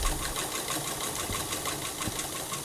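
A sewing machine stitches a dress hem with a fast, even mechanical whir and rhythmic needle clatter, close and continuous.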